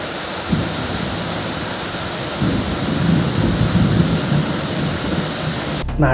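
Heavy rain roars steadily while low thunder rumbles and swells underneath, loud and continuous.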